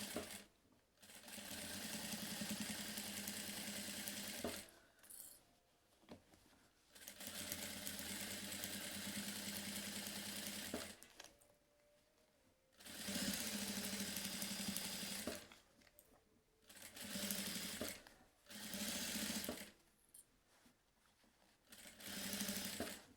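Sewing machine stitching seams on a crossbody bag with a presser foot, running in several bursts of a few seconds each, separated by short pauses, fairly close with no talk.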